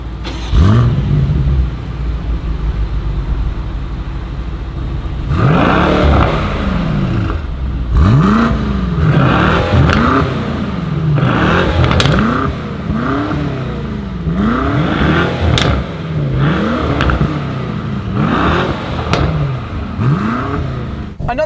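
A V8 sports sedan, either a BMW M5 or a Mercedes-AMG E63S, revs up and down repeatedly in a steady rhythm of rising and falling sweeps. The engine is loud and close, with no talking.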